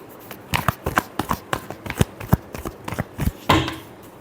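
Tarot cards being shuffled in a deck, a run of crisp riffling clicks and soft slaps in quick irregular bursts, close and fairly quiet, ending in a slightly fuller flurry.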